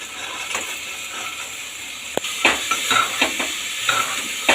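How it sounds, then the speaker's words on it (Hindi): Chopped vegetables tipped into a hot pan with oil and spices, followed by stirring, giving a steady close sizzle with scraping and clattering stirs that grow busier toward the end. "अब डाल देते हैं सब्जियाँ, ये कटी हुई सब्जियाँ रखी थी वो डाल देते हैं।"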